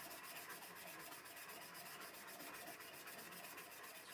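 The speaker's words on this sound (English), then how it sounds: "sand along the blank." Sandpaper rubbed along an executive pen blank, with the lathe switched off, gives a steady, close, continuous scratchy rasp of even loudness with faint rhythmic strokes and no talking.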